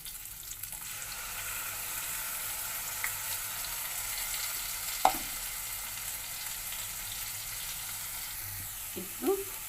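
Mint leaves fry with ground coconut, ginger and garlic, giving a steady low sizzle throughout, with a few faint clinks from stirring.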